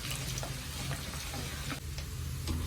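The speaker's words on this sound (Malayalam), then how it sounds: "കറിവേപ്പിലയും കൂടെ ചേർത്ത് കൊടുക്കാം." Curry leaves hitting hot oil in a pan with a tomato pickle masala, a dense continuous crackling sizzle with small pops and spits, close and fairly loud, no talking.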